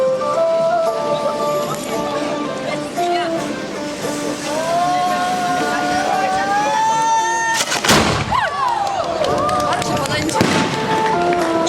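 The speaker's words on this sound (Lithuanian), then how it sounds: "aš noriu paprašyti riterio Donato ją užtvirtinti patrankos šūviais." A cannon fires at a medieval festival at Antaninės on the Mūša river: one heavy, sharp boom cuts through the steady crowd noise and an announcer's voice, then rings out and fades.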